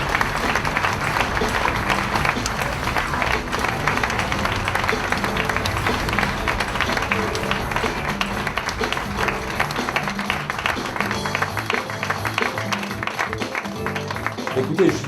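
Audience applause fills a French award ceremony as the president of JP is called to the stage, a steady, dense wash of clapping with crowd noise and some speech mixed in throughout.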